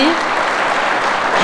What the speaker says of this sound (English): let us give a good hearty clap for our party